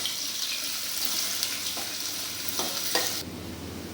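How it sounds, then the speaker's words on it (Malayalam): Onions sautéing in hot oil in a pan, a steady close sizzle broken by a few scrapes of a spoon stirring, with the frying noise dropping away abruptly near the end. "ഇനി ഞാനിവിടെ ചട്ടി ചൂടാക്കി, ഈ ചൂടായ എണ്ണയിലേക്ക് നമുക്ക് ഉള്ളി, സവാള അതെടുക്കണം. എന്നിട്ട് നന്നായിട്ട് വഴറ്റണം."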